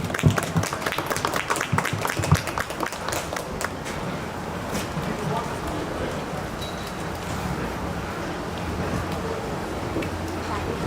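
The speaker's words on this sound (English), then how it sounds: "I think we all need to really give them a round of applause" Audience at a 4-H and FFA hog show bursts into loud, dense applause that tapers after a few seconds into a murmuring crowd wash in a large show barn.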